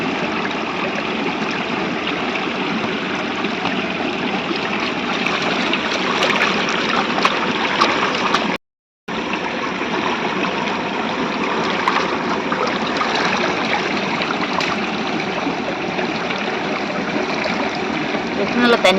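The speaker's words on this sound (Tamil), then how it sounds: "நல்லா தண்ணி வருது." Running water from a tap pours steadily in a home kitchen while onions and vegetables are washed, a loud continuous rush that cuts out for a moment and then resumes.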